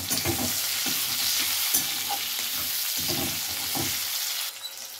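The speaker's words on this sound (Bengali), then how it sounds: "ফোড়নে আমি দিয়ে দিলাম লবঙ্গ, দারচিনি, রাখা পেঁয়াজও দিয়ে দিলাম। পেঁয়াজটা ভালো করে ভাজবো।" Onion frying in hot oil with whole cloves and cinnamon, being prepared for a crab curry; a steady sizzle runs throughout, broken by repeated scrapes and stirs of a spoon in the pan.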